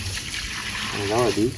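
Water from the Ganga kund, a spring-fed tank, splashes as it is poured out onto nearby trees: a steady close trickle and gush that continues while someone speaks over the end.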